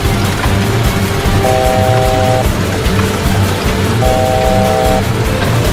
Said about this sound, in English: Suddenly, the stall warning sounded in the cockpit.